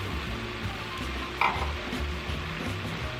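Onion and garlic go into a pan of browned Italian sausage for zuppa toscana, bringing a steady close sizzle with light stirring and one brief louder clatter of the onions landing midway.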